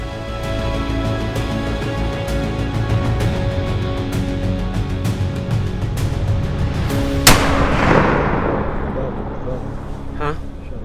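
A rifle shot fired at a mule deer in high-country cover cracks out sharply once, loud and close, then rings away over a steady background of wind or rustling.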